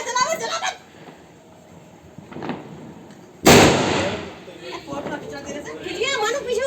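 Diwali firecracker goes off with one sudden loud, close bang that trails into a crackling hiss, with people chatting and calling out before and after it.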